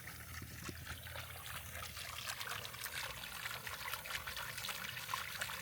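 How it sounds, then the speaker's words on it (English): Water trickling steadily from a freshly started irrigation leak in a residential neighborhood before dawn: a quiet, continuous dribbling and splashing with fine crackle, heard close and alone. "someone has an irrigation leak. And you know what? This just started leaking."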